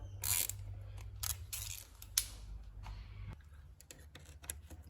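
An oil filter drain plug on a Hyundai ix35 CRDi diesel being loosened with a 6mm Allen key, giving soft metallic clicks and light ratcheting scrapes over a low steady hum, faint and close.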